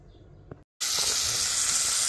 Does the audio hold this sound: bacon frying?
yes